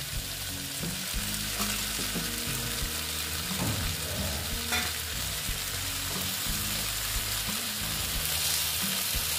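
Pieces of bata fish sizzle and sputter as they are stirred into a cooked-down spice paste in a hot pan, with a steady, close frying hiss and occasional scraping of the spoon throughout.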